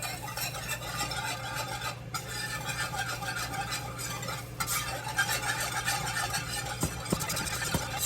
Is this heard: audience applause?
no